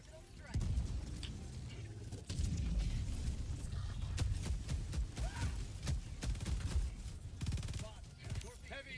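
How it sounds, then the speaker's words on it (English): A grenade blast and heavy gunfire in Helldivers 2 against bots roar in a sustained, booming barrage, with a voice shouting over the battle noise. "Grenade!"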